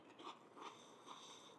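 Crunchy prawn crackers from a Chinese takeaway bitten and chewed, giving three soft, dry crunching bursts spaced about evenly over a quiet background, close but not loud, with no talking.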